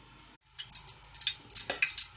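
Water dripping and trickling from boiled rice set to drain in a strainer, a close, irregular patter of small drips after a brief silence.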